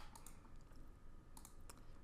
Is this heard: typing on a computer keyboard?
yes